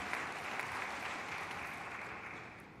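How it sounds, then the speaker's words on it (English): Audience applause at an engineering symposium fills the room as a dense, steady wash of clapping from a large crowd, holding evenly and easing slightly toward the end. "Big round of applause for Chris Campbell."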